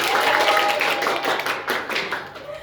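A classroom of students claps hands in a counted rhythm during a microteaching practice lesson, a dense run of sharp claps throughout with a voice talking over them.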